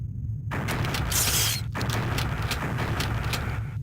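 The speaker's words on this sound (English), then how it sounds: "Again, lightning sound." Thunder from a lightning strike in the video game Alien vs Predator: a loud, dense crackling rumble that starts abruptly and rolls on steadily for a few seconds, with no voices over it.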